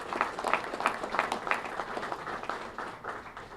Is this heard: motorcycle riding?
no